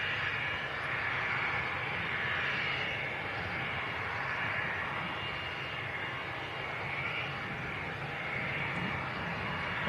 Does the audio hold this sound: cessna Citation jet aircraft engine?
yes